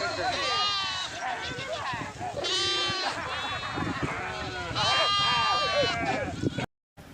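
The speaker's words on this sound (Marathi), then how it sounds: "बघा हे बघा मेंढ्या चालल्यात चरायला" Several sheep bleat repeatedly, loud and close, their wavering cries overlapping in bursts as they head out to graze, with a person talking underneath.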